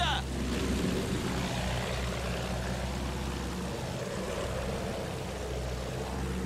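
Steady, loud drone of a propeller airplane engine in the video game Battlefield 1, continuous for several seconds with a low rumbling hum; faint game sounds and possible speech sit beneath it.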